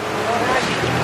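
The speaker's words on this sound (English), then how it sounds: "The water definitely splashed me" Waves and spray splash around a small boat on rough water off Cabo San Lucas, a steady loud wash of water noise with wind buffeting close to the microphone.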